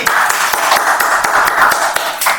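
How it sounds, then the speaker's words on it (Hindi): A small group of students in a classroom claps in quick, uneven bursts, a close and steady patter of hands without any talking. "तालियां होनी चाहिए उनके लिए, पहले तालियां हो जाओ सारे"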